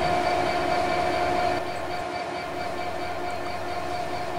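The Midland Pullman train passing near Lockerbie in Dumfries and Galloway, southwest Scotland, a steady loud rumble with a sustained tonal hum that eases slightly midway, no voices.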